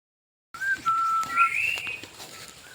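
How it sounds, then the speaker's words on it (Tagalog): Bird calls in the countryside ring out after a brief silence: a few clear whistled notes, some rising and sliding, fairly close and moderately loud against a quiet background with faint rustling. "Pag nasa bukid, ibon lang ang marinig."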